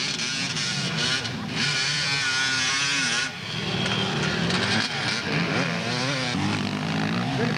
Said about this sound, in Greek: είναι ακόμα ένα μηχανάκι